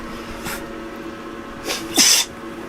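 A single short, sharp sneeze bursts out near the end after a couple of faint sniffs, against a low steady background hum aboard a sailing boat.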